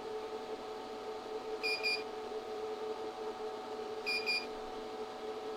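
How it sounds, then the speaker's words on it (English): A chocolate tempering machine signals the chocolate reaching its melt point with two short double beeps a few seconds apart, faint over a steady mechanical hum. "The chocolate has now reached its melt point, indicated by a series of loud beeps and the flashing of the temper button."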